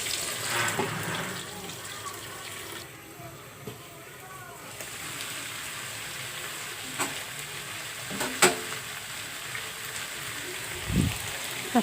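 Chicken frying in a covered pan gives a steady muffled sizzle with occasional clinks and a few louder knocks, while a voice is heard faintly in the background.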